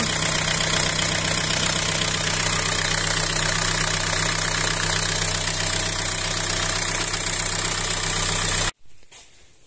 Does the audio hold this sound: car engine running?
yes